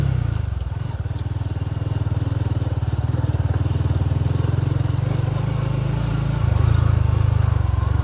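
Honda Winner X motorcycle engine hums steadily and close while riding a rough trail, a continuous low throbbing drone with road clatter and rumble underneath, rising slightly toward the end.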